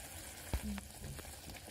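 Thick amla pickle with melted jaggery, cumin powder and salt is stirred in a pan over a very low gas flame, giving a soft, brief scrape and a faint sizzle, close and quiet, with no talking.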